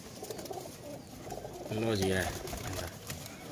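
A Kasoori male pigeon in a loft gives one clear throaty coo in the middle of the moment, close and fairly loud, with someone briefly speaking over the low background.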